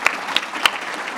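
Audience applause at a State of the City 2024 address after a line about the city's AAA credit rating: a brief, steady patter of clapping with a few sharper claps standing out, moderately loud.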